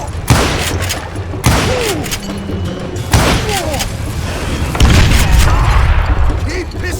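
Gunshots in the video game Call of Juarez Gunslinger, with four loud, booming revolver blasts spaced about a second and a half apart, each ringing out over ongoing background game noise.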